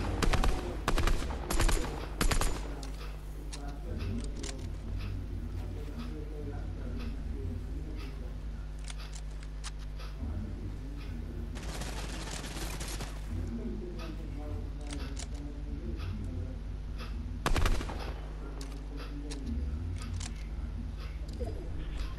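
Rapid video game gunfire from a Fortnite match crackles in dense automatic bursts and single shots, loud and nearly continuous, with a steady hum underneath.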